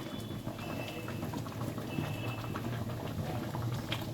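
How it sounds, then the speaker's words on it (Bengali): A pot of moong dal with cauliflower and flat beans bubbles at a steady boil, giving a soft, continuous patter and gurgle that stays even and fairly quiet throughout. "ডালটা খুব ভালো করে দেখো ফুটে গেছে"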